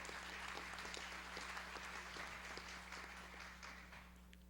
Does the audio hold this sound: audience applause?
yes